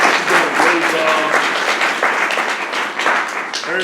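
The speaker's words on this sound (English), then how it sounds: "Let's give Yolanda a round of applause" Crowd at a 2023 city councilman's State of the District address applauding a district office staff member, brisk close clapping for nearly four seconds, fading slightly near the end, with scattered voices mixed in.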